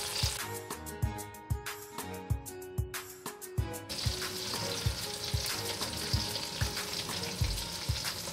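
Chicken and vegetable shashlik fry lightly in a pan with a constant sizzling hiss, punctuated by a regular series of low thumps as pieces are turned or pressed, with a tonal hum in the first half.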